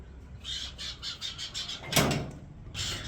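Birds kept at a bird boarding and play home in Bengaluru call in a quick series of short, bright chirps close by, with one louder squawk near the middle.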